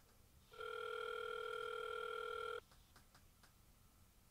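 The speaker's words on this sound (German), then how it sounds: "Pico ruft an" A telephone rings loudly and steadily for about two seconds with an incoming call, then stops, leaving a few faint clicks and room noise behind.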